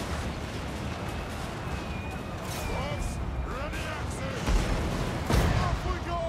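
Gunfire and booming shots from a battle in Warhammer 2: Mortal Empires with Clan Angrund, scattered distant reports over a steady din of battle noise.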